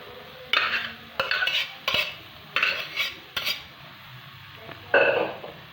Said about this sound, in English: Mix it all up thoroughly.